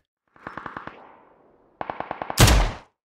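Two quick bursts of rapid gunfire in PlayerUnknown's Battlegrounds, about six shots each, separated by a short gap, followed by a louder, harsher blast.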